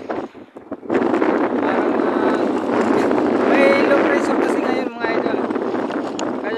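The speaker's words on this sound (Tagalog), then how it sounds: "Malakas ang hangin." Strong wind roars over the microphone on a fishing boat at sea in rough weather, a loud, steady buffeting rush that begins after a brief quieter moment, with a voice faintly mixed in.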